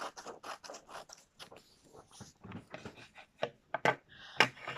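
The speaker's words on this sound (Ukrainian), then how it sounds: "Ось так ножицями вирізаю смужку." Scissors cutting a strip across a sheet of paper, a close run of quick crisp snips and papery rustles, fairly quiet, with no talking.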